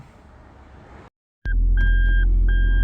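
Reverse warning beeps from a 2003 Toyota MR2, repeated steady tones like a reversing lorry, sounding over a loud low engine rumble after a brief cut to silence.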